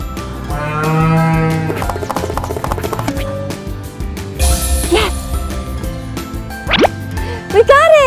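Cow mooing amid a toy-filled farm scene, with a long low moo early on followed by clicks, plops and whistling toy effects, and voices speaking over parts of it.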